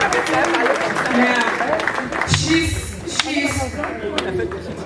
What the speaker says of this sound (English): Can we give her a round of applause, ladies and gentlemen? On applaudit, s'il vous plaît.